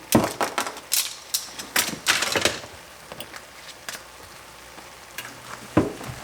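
Ground meat browning in a frying pan for a sloppy joe tater tot casserole, with an irregular sizzle broken by scraping and stirring clatters that come in bursts, then a quieter stretch and one last knock.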